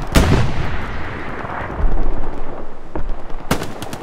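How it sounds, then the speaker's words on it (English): Gunfire and heavy artillery in the World War II shooter Hell Let Loose during an Omaha Beach defense, loud booming blasts and sharp cracks over a dense rumbling battle din, with a strong burst at the start and another near the end. "They're shooting on me."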